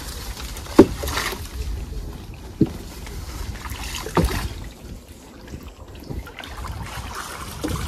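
Small boat pushed along with a pole through shallow water while out catching crabs, soft watery swishes and splashes with a few sharp knocks, close by under outdoor wind noise, with no talk.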